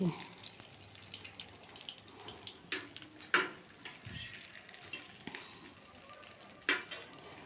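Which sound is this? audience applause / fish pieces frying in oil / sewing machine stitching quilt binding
fish pieces frying in oil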